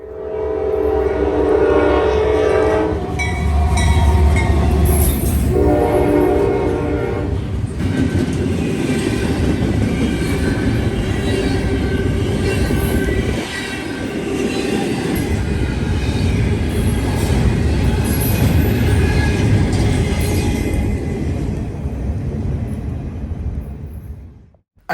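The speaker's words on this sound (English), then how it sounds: "a daily intermodal train from Columbus, Ohio to Cincinnati, Ohio, heads westbound under the nighttime sky at London" A long Norfolk Southern westbound intermodal freight train rumbles past close by at night in London, Ohio, with a loud horn blasting early on and steady wheel clatter and rolling noise throughout.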